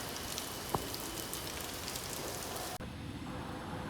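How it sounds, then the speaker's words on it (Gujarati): Heavy, fast rain falls in a steady broadband hiss, with a brief sharp knock partway through and an abrupt muffling near the end, as if a door closes. "વરસાદ કેટલો ફાસ્ટ છે. તમારી બાજુ છે કે નહીં કોમેન્ટમાં જણાવજો."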